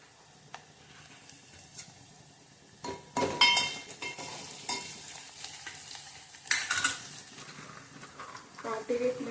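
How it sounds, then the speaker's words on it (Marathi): Crushed garlic tipped into onion frying in hot oil for a rustic village-style fresh field bean amti, giving a soft sizzle with stirring and light utensil clinks that swell midway, while someone talks over it. "आता ह्यात जे आपण लसूण चेचून घेतला होता ते टाकणार आहोत"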